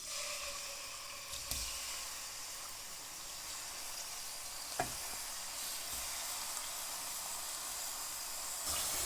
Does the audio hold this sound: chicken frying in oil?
yes